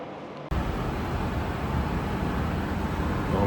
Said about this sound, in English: we're heading to Barcelona, but not on that train. That's an Iryo.